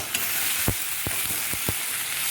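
Whole spices such as cumin, coriander and curry masala sizzle in a hot pan, with a steady broadband frying hiss and several sharp clicks of a spoon scraping against the pan.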